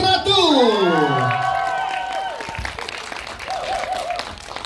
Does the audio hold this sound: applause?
yes